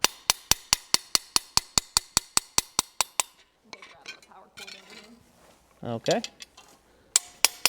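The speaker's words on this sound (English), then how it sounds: "I'm planishing out any of those chop marks left by the big chisel, by the big butcher" A hammer planishing chisel marks off forged metal: a rapid, even run of bright ringing strikes, then a pause with a short spoken word and shuffling, then a few more strikes.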